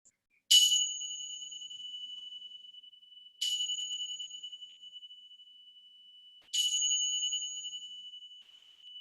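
Bells ring during a yoga meditation: three clear metallic strikes a few seconds apart, each with a long ringing tone that slowly fades into a quiet room.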